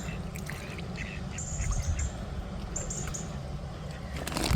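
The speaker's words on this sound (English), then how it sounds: "Some ducks have just popped by," Ducks quacking beside a moored boat while being fed oats: repeated short nasal quacks, fairly close, over a steady outdoor rumble with a thump at the end.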